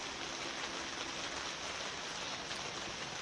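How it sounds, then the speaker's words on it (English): Heavy rain pouring down outdoors on a homestead while sap boils, a steady broadband hiss with dense patter, even and continuous throughout with no voices. "It's pouring down rain outside."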